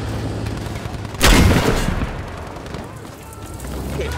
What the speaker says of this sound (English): Lunge mine kill.